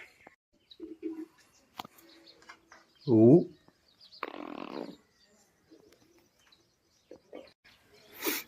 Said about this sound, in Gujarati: અહીં કબૂતર સણસણી રહ્યા છે